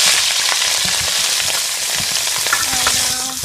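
Goat meat searing in a hot pot, a steady loud sizzle and crackle of frying with light stirring scrapes, close up and without talk.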